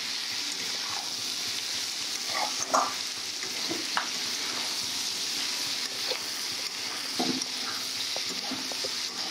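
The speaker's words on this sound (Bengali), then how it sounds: "চিংড়ি ঢেলে দেওয়া হলো। কষার সময় ভালো করে করতে চিংড়ি ছাড়া হলো।" Tiger prawns hit a hot pan and sauté for a spicy prawn curry, giving a steady, close sizzle and frying hiss with occasional stirring scrapes throughout.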